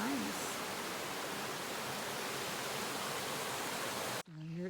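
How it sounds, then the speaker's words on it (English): A creek in Tennessee rushes with a steady, broadband wash of flowing water, fairly close and continuous, with a brief bit of voice at the start and a short spoken moment at the end. "But there is the beautiful rushing sounds of water."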